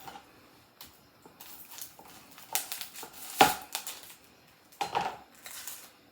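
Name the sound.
onion being cut with a knife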